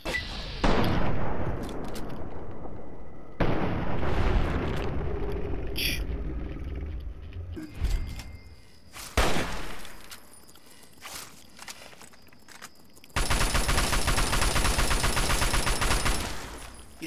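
Bursts of gunfire aimed at a creature in the video game Fallout 3, with loud broadband shots scattered across the scene, some rapid volleys, and quieter stretches of footsteps and ambience between them.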